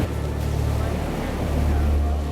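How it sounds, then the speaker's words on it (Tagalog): A boat engine drones loudly and continuously as the boat rides high waves off Romblon, Philippines, with wind and water rushing around it and the hull pounding dully now and then. "medyo pumapalo ng mataas yung bangka ngayon"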